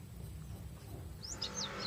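A ciblek (bar-winged prinia) gives a few quick, high chirps close by, faint over a low background hum, toward the end.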